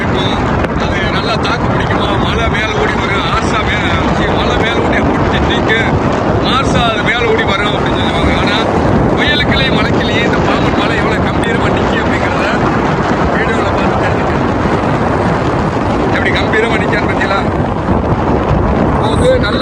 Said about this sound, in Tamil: பரவில்லாத காற்று நல்ல மழை வேற அடிச்சு ஊத்துது